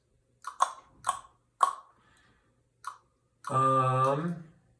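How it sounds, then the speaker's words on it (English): A run of short, sharp clicks at an uneven rhythm, followed by a sustained tonal burst with harmonics, close and fairly loud with no talking. "I brought in these little clicks, like tongue clicks"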